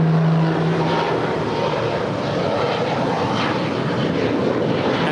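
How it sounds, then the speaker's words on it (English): An Aeromexico Boeing 787-8 Dreamliner arriving from Mexico City at LAX, its engines giving a steady, broad roar with a low tonal hum fading early, fairly loud and continuous throughout with no talk. "That is Aeromexico Flight 644 coming in from Mexico City. That is a 787-8 Dreamliner."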